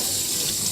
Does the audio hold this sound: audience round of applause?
no